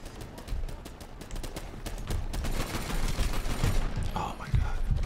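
Rapid automatic gunfire from the fast-paced shooter Titanfall, Attrition mode on the Overlook map, with dense repeated bursts filling the clip alongside a player talking.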